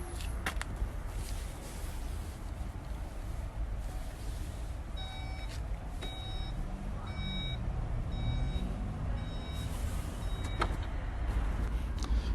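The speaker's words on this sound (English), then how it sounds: "Electric tailgate on this car now" A Skoda Octavia vRS hatchback's motorised tailgate hums steadily, with a few electronic beeps sounding partway through and faint clunks near the start and end.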